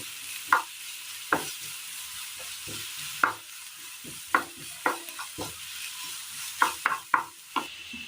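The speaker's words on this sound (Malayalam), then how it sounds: "ഇനി ഇതിലേക്ക് നമുക്ക് കറിവേപ്പില കൂടി ഇട്ട് കൊടുക്കാം. ഒന്ന് വാട്ടിയെടുക്കാം." Curry leaves sautéed in a pan for an egg masala, a soft background sizzle punctuated by a dozen sharp, irregular spatula taps and scrapes against the pan, close up with no voices.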